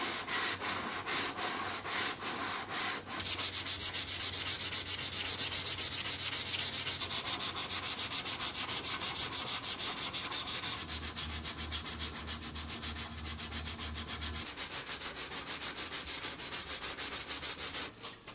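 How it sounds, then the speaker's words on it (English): Car body filler being sanded on the bodywork of a neglected Subaru, a continuous close scratchy rubbing with steady back-and-forth strokes that shift slightly in pitch over a long stretch. "then we'll do some sanding and see what it looks like"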